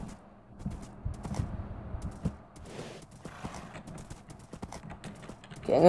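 Horse hooves clip-clop in Minecraft as uneven, fairly quiet taps and thuds over several seconds, with a brief rise in loudness at the end.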